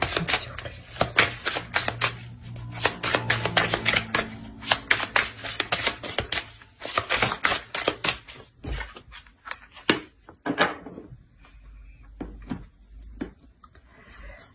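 Tarot cards shuffled and drawn by hand, with a rapid run of crisp riffling snaps for several seconds, then slower, scattered slaps and flicks as single cards are pulled and laid down, close and without talk.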